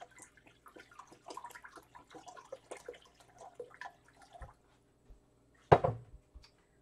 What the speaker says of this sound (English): So let me rinse the container I'm going to put it in.